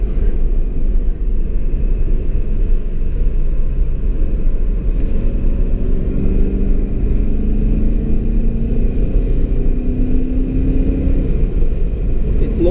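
BMW E39 540i V8 with a manual gearbox heard from inside while driving, a steady deep engine rumble with road noise and a rising engine tone in the middle, not at full throttle.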